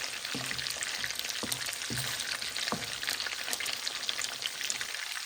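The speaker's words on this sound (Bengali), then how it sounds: "আমি মাছটাকে খুব ভালো করে মিডিয়াম হিটে ভেজে নিচ্ছি" Sarputi fish frying in a pan over medium heat gives a steady, close crackling sizzle with scattered soft pops throughout, and no voices.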